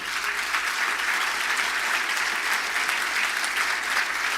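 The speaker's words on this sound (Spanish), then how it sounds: "Den un aplauso al Señor por esto." Loud, sustained applause from a congregation at a church service, steady clapping filling the whole stretch without a break.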